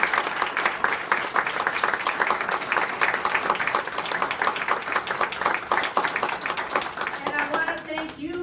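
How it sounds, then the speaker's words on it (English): An audience gives a steady round of applause after speakers at a voter education event, dense even clapping filling the room for about eight seconds before a voice begins talking at the end. "Let's give them a round of applause."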